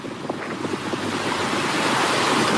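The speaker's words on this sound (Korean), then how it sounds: "아, 바람이 불었어." Wind gusts across a beach with surf, a broad rushing roar that builds steadily and buffets the microphone, with no voices.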